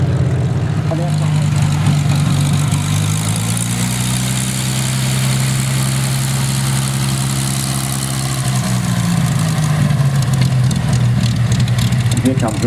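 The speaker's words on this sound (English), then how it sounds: "Here comes the first of our Hurricanes." A Hawker Hurricane's piston engine drones at an airshow Battle of Britain re-enactment, a loud, steady low rumble that rises and falls in pitch as the aircraft passes, with a commentator talking over it.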